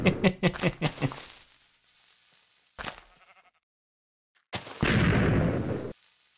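TNT explodes in Minecraft: a rapid string of booming blasts, then a single boom, then a longer rumbling explosion after a short silence, loud and close.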